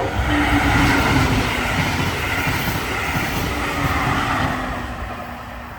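A Brightline passenger train rolls past southbound in Florida with a loud, sustained rumble and hum from close by. The noise stays steady for several seconds and then slowly fades.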